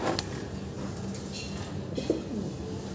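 Soft cooing from a fancy pigeon, a red king pigeon among the show birds, sounds in a few low murmurs over a steady background hum, fairly quiet and without talk.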